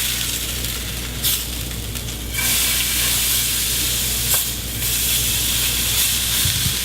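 Pork tenderloin, just flipped in a hot pan, sizzles loudly and evenly, a bright hiss that swells after a couple of seconds and holds steady.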